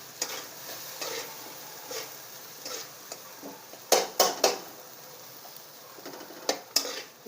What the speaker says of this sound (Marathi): आणि चांगलं तेल सुटेपर्यंत असं परतून घ्यायचं